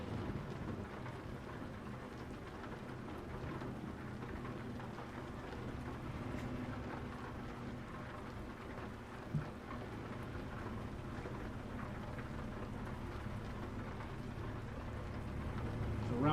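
Steady rain and low rumbling thunder in Euro Truck Simulator 2, a continuous even wash of rainfall with a deep storm rumble underneath, persisting throughout with no talk.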